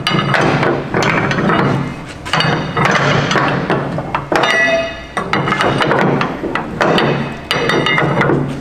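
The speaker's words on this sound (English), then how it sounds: "So now you can see as I tighten that down, those back layers become a nice pad for that strap." Ratchet strap being cinched down on a trailer load, a loud rhythmic run of metallic clacking ratchet strokes in repeated bursts with brief pauses, very close and alone without talk.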